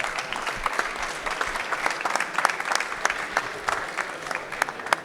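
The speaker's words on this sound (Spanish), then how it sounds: "Un fuerte aplauso, por favor." Audience applause welcoming panelists at an industry expo panel, a steady patter of many hands clapping, moderately distant and fairly quiet, with scattered sharper claps.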